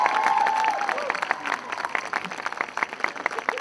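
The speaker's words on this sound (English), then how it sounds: "Give him a big round of applause." An audience at a rally at the Georgia State Capitol applauds a freshman representative with dense, sustained clapping and some crowd noise, beginning with a brief high tone at the start.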